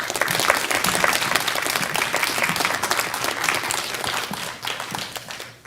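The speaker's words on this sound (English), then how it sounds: "Let's give her one more round of applause, please." Graduation ceremony audience at École Salish Secondary applauding after a student's speech, steady dense clapping from a large crowd that holds strong and then tapers slightly near the end.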